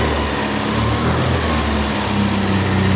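A 1968 MG B four-cylinder engine fitted with a geared starter runs steadily at idle, loud and close, a continuous even rumble with no voices over it.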